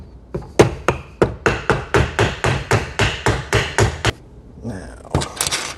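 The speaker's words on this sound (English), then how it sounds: "And it is going to take some hammering." A hammer drives a rail onto an M1A / M14 rifle in a rapid, even run of about a dozen sharp, loud metallic taps. A short pause follows, then a few more blows close by, with no voices.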